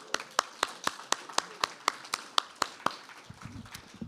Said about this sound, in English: Can we get a big round of applause for your amazing teachers?